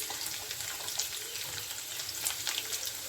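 Medium-sized onion frying in hot oil in a pan for Bengali katla fish kalia, a steady close sizzle and crackle throughout with no talking.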